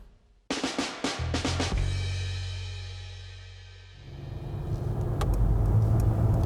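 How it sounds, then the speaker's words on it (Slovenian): A car on a coastal motorway in Slovenia, heard after a few sharp clicks and knocks as a steady engine and road hum that fades briefly and then swells louder again, with no talk. "Vozim se po primorski avtocesti od Ajdovščine proti Novi Gorici"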